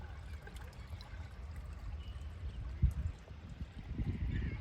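Irrigation water trickling and flowing along furrows in a potato field, a soft, continuous gurgling stream with a few low splashy swells, fairly faint and heard outdoors without talk.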